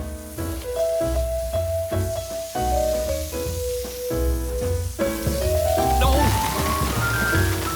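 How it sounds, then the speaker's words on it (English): A cartoon shower runs with a hissing spray of water, heard under steady background music with tonal notes throughout. "Even a shower."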